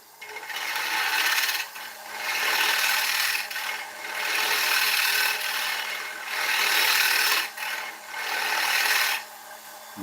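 Wood lathe turning ash with a bevel-rubbing tool cut, loud rasping scraping strokes in repeated bursts of about a second or two separated by short pauses, under a faint steady motor hum, no talking.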